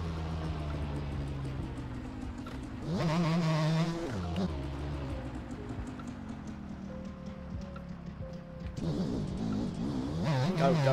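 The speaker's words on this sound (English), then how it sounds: "Because obviously a two-stroke is very, very loud." Two-stroke engine in a racing video game, revving repeatedly in bursts over a steady buzzing drone, rising and falling in pitch at moderate loudness.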